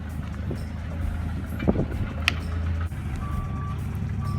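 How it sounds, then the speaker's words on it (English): A forklift lifting a BMW E46 car gives out two clear reversing beeps late on. They sound over a steady low engine rumble and wind noise outdoors. "got my old man on the forklift over there"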